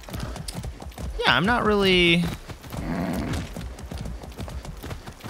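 A horse in the Far Cry 6 video game gives a loud, close whinny, with clopping hooves and footsteps around it while someone talks over the scene.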